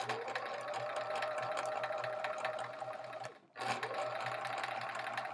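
A sewing machine stitches quilt sashing with a close, continuous rapid whir, pausing for a split second before starting up again at the same steady speed.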